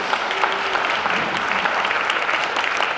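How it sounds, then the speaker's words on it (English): A dense, steady round of applause fills the room at a chamber of commerce annual dinner, sustained and fairly loud throughout with no speech over it. "would you please give a round of applause to all of our Emerald sponsors?"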